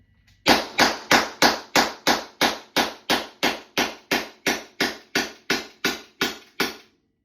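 Byrna LE launcher firing a rapid series of about seventeen sharp, evenly spaced shots, each a loud close crack with a quick decay, heard alone without talk.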